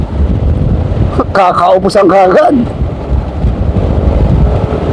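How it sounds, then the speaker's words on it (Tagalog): Strong wind buffets the microphone in constant loud roaring gusts at an outdoor Christmas bike race in Capas, while a commentator speaks briefly over it. "Napakalakas ng hangin."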